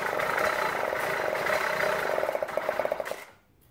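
A small retro moped engine with a formerly blocked exhaust runs with a buzzing, uneven idle, sputtering briefly near the end before cutting off into quiet.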